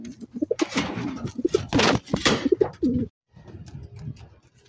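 Pigeons cooing close by in a loft, a series of soft throaty coos in quick bursts, then a brief pause and quieter calls, with no talking.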